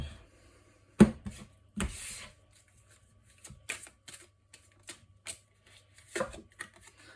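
Oracle cards from a love-angels deck are shuffled and drawn in quick riffling bursts, crisp papery flutters separated by short silent gaps, close and clear with no voices.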